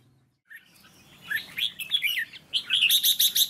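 A Bạch Lem decoy bird gives a run of bright, varied chirps and twittering notes at close range. The song starts softly, grows busier, and ends in quick repeated trills.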